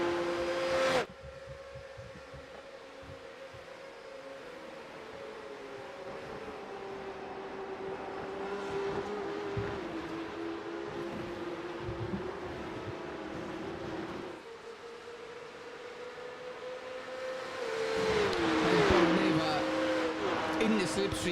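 Porsche Carrera Cup race cars running nose to tail in a slipstream at Daytona in a racing video game, a steady engine drone with shifting pitch that swells louder near the end, heard under commentary talk.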